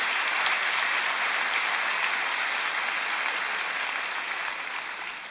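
Sustained audience applause at a Christian church conference in Brazil, a dense, steady wash of clapping from a large crowd that holds level for several seconds before beginning to ease off at the end.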